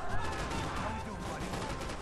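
Dense, continuous blasts and crackling gunfire-like bursts of an explosion in the video game Max Payne 3, loud and sustained with no pauses.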